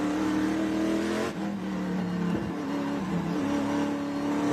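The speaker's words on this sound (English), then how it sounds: "I'm definitely hearing a noise I have not heard before out of that 88 car" Race car engine of the number 88 car at the NOLA SpeedTour drones continuously at high revs, a steady loud tone with a brief dip and shift as it changes pitch mid-run.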